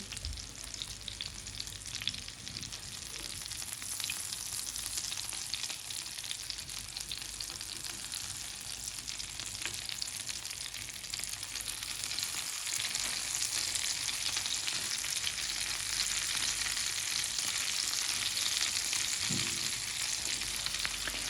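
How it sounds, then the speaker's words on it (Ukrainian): Steady, dense sizzling of meat cutlets frying in a preheated pan, about two minutes per side, a continuous close crackle with no talking. "Смажимо котлета по 2 хвилини з кожного боку."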